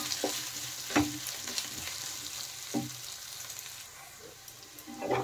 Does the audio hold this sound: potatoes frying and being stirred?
yes